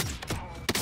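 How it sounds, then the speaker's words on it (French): Bursts of gunfire in the Warzone video game, rapid and fairly loud over a very brief moment. "ça tire derrière"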